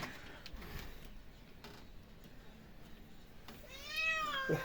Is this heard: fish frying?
no